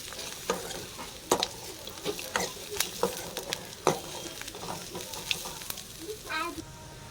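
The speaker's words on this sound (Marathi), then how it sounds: "आता ते सुद्धा आपल्याला कांद्यामध्ये हे फ्राय करून घ्यायचं आहे चांगलं" Onion and chopped dried coconut fry together in a pan for a drumstick curry, a low steady sizzle punctuated by frequent spatula scrapes and taps, close and moderately quiet.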